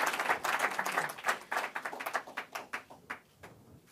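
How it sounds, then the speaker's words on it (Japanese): Applause from party members closing a joint plenary meeting of Diet members, a burst of clapping that thins into scattered claps and fades near the end. "じゃあ拍手をお願いいたします。"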